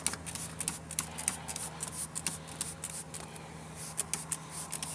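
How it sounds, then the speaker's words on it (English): Quick bursts of a spray bottle of clean water hiss in short, uneven pulses, rinsing a dusty wheel rim with white wall tires over a low steady hum, moderately close, with no talking. "we're rinsing it down with just a spray bottle full of clean water"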